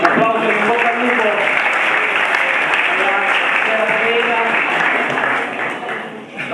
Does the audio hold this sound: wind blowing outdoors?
no